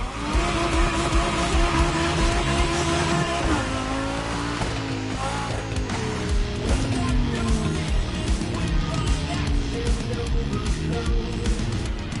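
A Lamborghini concept supercar, the Egoista or Terzo Millennio, in the racing game The Crew Motorfest set in Hawaii, roars loudly and steadily, its revs sweeping up and down, with bursts of tire squeal.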